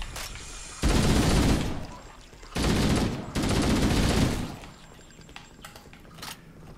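Automatic weapon fire in Halo: Combat Evolved comes in three loud, sustained bursts of rapid shots separated by short pauses, with game ambience underneath.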